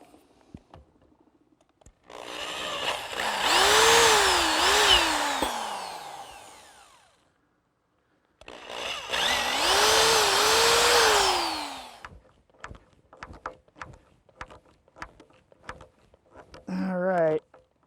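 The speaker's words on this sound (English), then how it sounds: "First step is to drill some pilot holes." A power drill bores pilot holes for stainless steel screws securing a cast aluminum flagpole cleat, two whining bursts of several seconds each with rising and falling pitch, followed by scattered clicks and handling noises.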